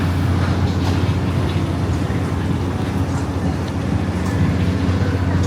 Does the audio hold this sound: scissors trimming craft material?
no